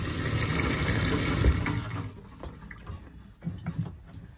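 Water rushes from a tap in a converted horse trailer's plumbing, loud at first, then it drops away into quieter trickles and a few soft knocks.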